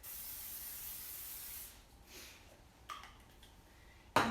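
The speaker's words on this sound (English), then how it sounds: "So go ahead and spray your muffin tin." Cooking spray hisses steadily from a can into a muffin tin for under two seconds, followed by quiet handling noises and a sharp clink at the end.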